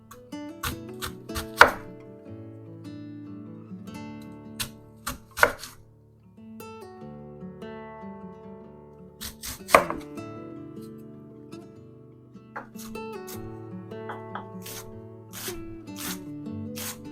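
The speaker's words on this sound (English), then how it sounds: "I'm just cutting some slices, and then from there, turning them into small dices." A knife slices and dices an onion on a cutting board, with irregular crisp chops in bursts, close and clear, over quiet background music.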